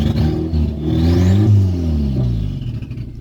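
Close-up turbocharged Mazda 3 engine idling briefly, then revved up and let back down, a rising and falling rumble with a faint whine on top.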